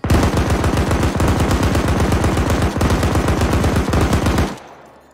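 Gunfire in the video game Arma 3, a long, rapid automatic burst of close, loud shots in an even rhythm that stops abruptly near the end.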